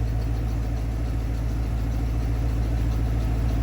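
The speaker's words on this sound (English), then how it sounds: "I've had it sitting here idling for a few minutes now" A 1991 Ford F-250 pickup truck engine idles steadily with a low, even rumble and a faint rhythmic knock, close by and uninterrupted.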